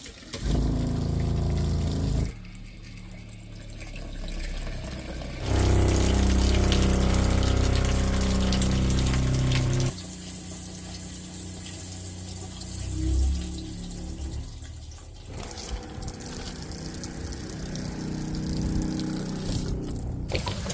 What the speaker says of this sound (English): let's drain out that water heater